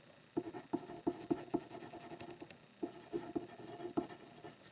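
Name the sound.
writing notes by hand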